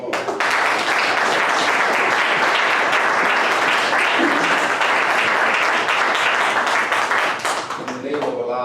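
Warm audience applause at a religious gathering, sustained and loud for most of the stretch before thinning out near the end, with a voice briefly audible at the close.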